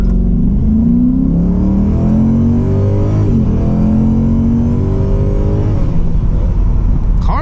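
A 2007 Ford Mustang GT accelerates hard from a dead stop, its V8 engine roaring loud and close as the revs climb through several gear changes, the pitch rising, dropping at each shift and rising again.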